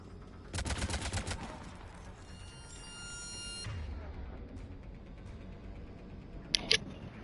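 Rapid bursts of sniper and automatic gunfire in the Mass Effect 3 video game, a dense volley near the start, a sustained mechanical whine, then a couple of sharp reports toward the end.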